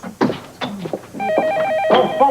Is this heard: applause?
no